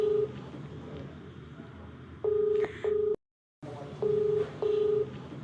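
A telephone number is keyed in on a touch-tone phone to place a call. Crisp DTMF beeps come in short pairs, split by a brief silent gap, with faint background noise beneath.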